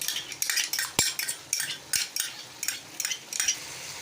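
Cream and yogurt being mixed into chicken karahi, with a spoon scraping and clinking against the pot in a quick, irregular series of sharp taps and scrapes, close and fairly loud, with no one talking.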